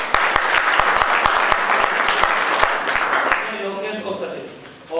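Loud, close applause at a law college moot court event, with strong individual claps over dense clapping that fades out toward the end as a voice begins.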